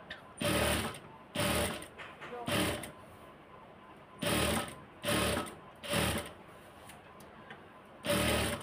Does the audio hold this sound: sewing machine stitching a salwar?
yes